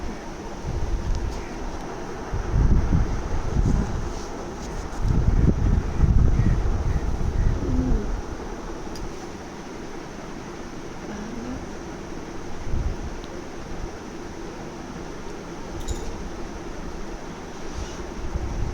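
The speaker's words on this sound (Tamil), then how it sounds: "எல்லா மரங்களும் சேர்ந்து காற்று அவ்வளோ சூப்பராக வருது." Gusts of wind rush and roar through trees in an outdoor garden, swelling and fading in waves, with buffeting on the microphone and a faint high hum throughout.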